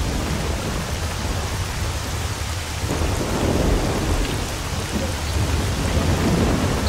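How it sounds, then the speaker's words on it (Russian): Thunderstorm in the video game S.T.A.L.K.E.R., steady heavy rain pouring over a deep rolling rumble of thunder that swells in the second half, loud and continuous with no voices. "Какая кошмарная погода, смотри, как потемнело, дождь пошел."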